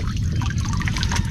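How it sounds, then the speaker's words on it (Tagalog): Heavy rain pours down at a fish-corral shrimp pen in the Philippines, a dense, steady hiss of water close by that runs without a break and with no voices. "Yung araw ng malakas ang ulan dito sa amin."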